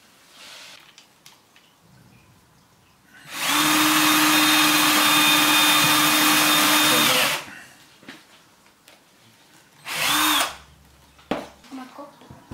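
A power drill boring through a wooden board while building a bird feeder, one long steady whine of about four seconds and a shorter burst later, with quiet talk and handling noises between.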